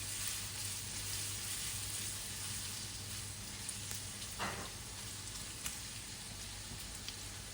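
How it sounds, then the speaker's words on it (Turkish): Steady, faint sizzling crackles continuously as three cloves of chopped garlic fry in a hot pan, with a few soft clicks. "3 diş doğranmış sarımsak ekliyorum. Sarımsakla da şöyle 10-15 saniye karıştırıyorum."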